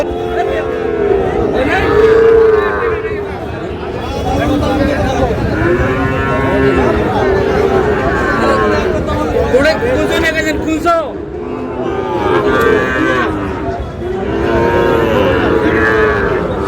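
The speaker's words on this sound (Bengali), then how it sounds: "গরুগুলো দেখছেন আতর ভাই।" Several cattle, including Sahiwal bull calves, moo repeatedly, some close and some farther off, over the steady babble of a crowd and nearby talking at a livestock market.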